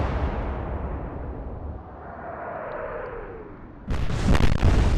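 Naval guns fire in the Atlantic Fleet video game, a broad rumble giving way to a loud, sharp burst of cannon blasts near the end.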